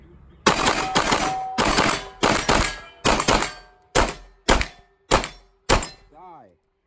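Pistol shots fired at targets with a Trijicon SRO red-dot sight: nine loud, sharp reports, the first few spaced irregularly and the rest in an even rhythm, each with a short echoing tail, then a brief voiced sound at the end.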